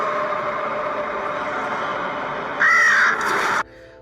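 Harsh crow caws sound loud and close over steady background rumble, ending abruptly.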